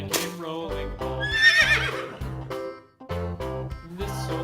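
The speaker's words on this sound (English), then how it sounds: "Horse." A horse whinnies with a rising, bright neigh over a children's nursery song with instrumental backing, the call standing out loud in the middle of the music.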